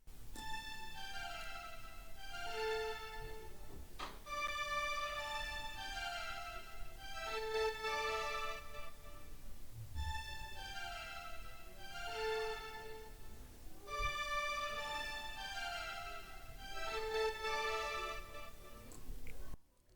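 A string section from the SRX Orchestra library plays the same part as the cello, repeating a phrase of sustained, harmonically rich notes at a steady, even level with no voices.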